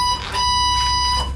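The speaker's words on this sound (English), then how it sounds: "The alarm sounds off for a while when they hit the button" An elevator alarm bell rings loudly and continuously with a steady high electronic buzzing tone, sustained without pause throughout, no voices present.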